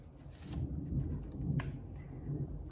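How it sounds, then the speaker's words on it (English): Heavy raindrops pour down in a storm as a steady, dense patter with a low rumbling undertone and a few sharper splashes, constant throughout and fairly close. "the sky turns dark and big, heavy raindrops begin to fall"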